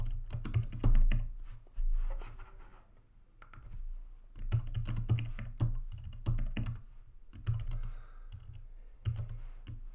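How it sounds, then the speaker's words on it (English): Computer keyboard being typed on, with irregular runs of soft close clicks and tapping in short bursts and brief pauses, fairly quiet overall. "Trying to type at the same time."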